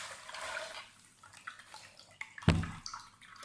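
Chickpeas are rinsed under running water in a large colander. Faint splashing and trickling build to a louder splash near the end.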